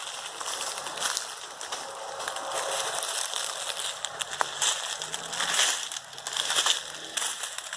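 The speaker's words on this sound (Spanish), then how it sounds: "Está rompiendo los vidrios en la capilla desde donde venían los disparos" Glass windows of a chapel in a wooded area being smashed, a continuous harsh crunching and crackling of shattering panes heard from some distance, with a few louder bursts.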